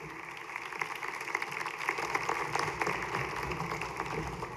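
Audience applause for a panel moderator at a 2013 summit on fiscal reform in Mexico, a steady broadband wash of clapping that fills the room throughout without letting up, fairly distant and even in level.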